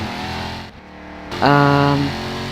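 A TDM car's engine in a racing video game revs up in one loud, steady rising tone, standing alone with no talk.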